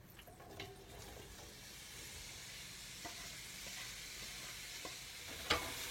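A garlic clove and onions go into a pan with melted butter, giving a quiet, steady frying sizzle with faint stirring clinks and a brief scrape near the end, no speech.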